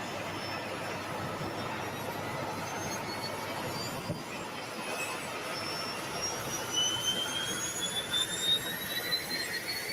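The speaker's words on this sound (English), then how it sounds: "is a private jet terminal, folks. That's what these things are all starting up. Commuter jets." Commuter jet engines spool up at a private jet terminal below, a steady broadband roar with rising high-pitched turbine whines, heard from a distance with no talking.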